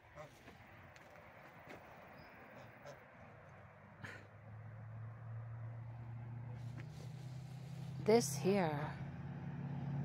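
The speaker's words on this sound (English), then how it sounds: "waiting for that noisy truck to go by." A noisy truck drives past a backyard chicken yard, its engine rumble swelling from mid-clip and growing louder toward the end, while a person speaks briefly and an animal call rises over the engine.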